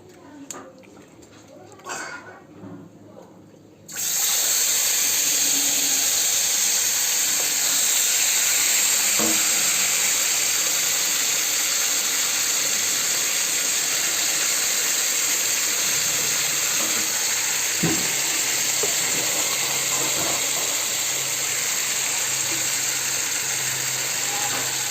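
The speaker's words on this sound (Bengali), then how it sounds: "এই মেরিনেট করা মাংসটাকে এবার আমরা তেলের মধ্যে দিয়ে দেবো" Marinated meat dropped into hot oil, a loud, steady sizzle and hiss that starts abruptly after a few quiet seconds and keeps going, with a few faint clicks and kitchen knocks on top.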